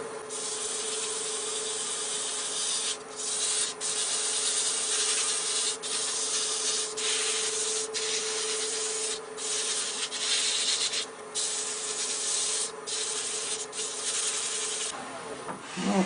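Continuous rasping sandpaper on a wooden baby rattle turning on a lathe run at slowed speed, a steady hiss with a constant motor hum underneath, occasionally pausing briefly.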